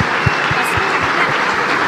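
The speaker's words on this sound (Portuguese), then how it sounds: "Uma salva de palmas pra essas crianças" A group of people claps for children, a brisk, fairly loud patter of applause with a few distinct heavier hand claps standing out.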